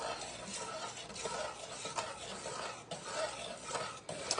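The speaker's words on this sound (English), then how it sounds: "A little bit more egg and a little bit more stir." Egg being stirred into a pot of egg drop soup, a soft continuous scraping and swishing with faint clinks of utensil against the pot, quiet and close, with no voices.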